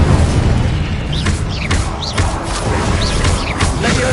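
The Incendio fire spell is cast repeatedly in Hogwarts Legacy, heard as dense, loud bursts of whooshing flame and booming impacts packed together with brief magical chirps, amid other spell effects and no pause.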